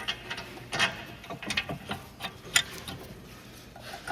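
Ratchet running down caliper bracket bolts during a front brake pad and rotor job on a 2010-2016 Cadillac SRX, a faint, quick clicking pawl in short uneven bursts against a low garage background.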